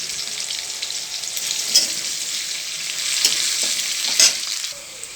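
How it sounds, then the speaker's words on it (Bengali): Chopped onions frying in oil with dry red chillies, bay leaf, garam masala and cumin sizzle steadily up close, with a few sharp stirring scrapes and spatula knocks in the pan and no voices. "এটাকে ভালো করে একটু ভেজে নেব।"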